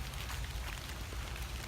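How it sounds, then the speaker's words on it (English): Rain falling outdoors on a rainy autumn day, a soft, steady hiss of drops with a low rumbling undertone, faint and continuous with no voices. "as you can tell, it's rainy out today"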